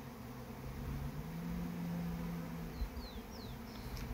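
Honeybees buzz around a hive on a sunny spring day in the field, a soft continuous drone with a few individual bees zipping close by and away.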